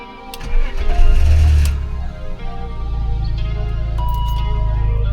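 A BMW E39 car engine cranks and catches, swells in a brief rev, then settles into a steady deep running rumble heard close from the driver's seat.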